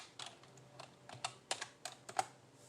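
Quiet clicks of a computer keyboard come in a short, uneven burst of keystrokes, close and soft in a hushed room.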